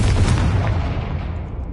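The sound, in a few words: Confringo spell explosion, from video game Hogwarts Legacy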